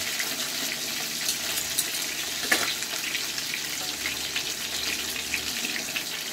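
Coated pork tenderloin frying in a pan, an even, moderately faint crackling sizzle with a brief louder pop partway through.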